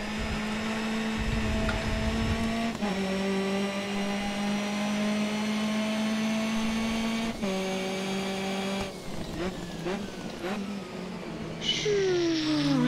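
A turbocharged race car engine in Grid Autosport, heard from inside the cockpit, whines steadily through several gear changes, its pitch dropping at each shift before a rising turbo whine at the end.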